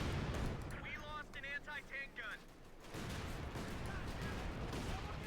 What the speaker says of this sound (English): Artillery called in here as well.